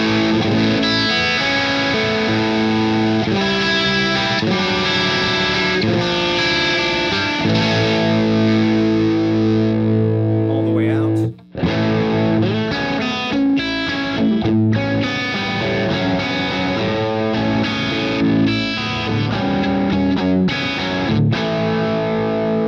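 An electric guitar plays loud, distorted chords and riffs through a Fuchs Mantis Jr amp as its presence control is adjusted, with the top end shifting. It plays alone, with a brief dropout midway.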